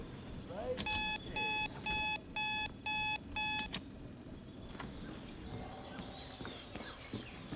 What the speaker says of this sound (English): let's turn on the alarm clock and see what happens